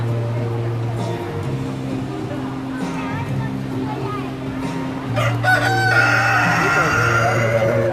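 A giant Brazilian fighting rooster crows loudly near the end, a long drawn-out call, while people talk over a constant background hum.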